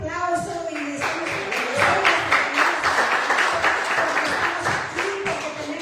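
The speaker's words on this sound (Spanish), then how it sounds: "Den un fuerte aplauso" A congregation at a Sunday gathering breaks into strong applause, sustained clapping from a crowd that rises and holds for several seconds, with a sung or spoken voice and music tones faintly underneath at the start.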